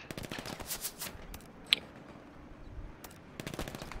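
Distant enemy gunfire in the Hell Let Loose video game, scattered bursts of rapid automatic shots and a single sharp crack, faint against a quiet background with no talking.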